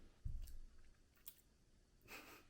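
Someone chews a snack during a break, producing a soft crunchy bite near the start and faint mouth clicks and smacking, with a louder rustle near the end; quiet and close, no talking.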